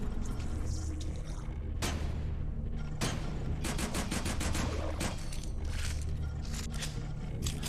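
A submachine gun fires in the game Retchid, rapid bursts of close, crackly shots in quick runs over a low rumbling background, with short pauses between volleys.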